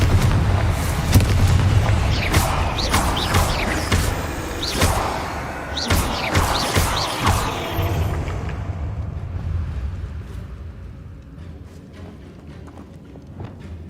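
Confringo fire-spell blasts in Hogwarts Legacy, a rapid series of sharp booming explosions with crackling tails over a low rumble, fading to scattered quieter hits toward the end.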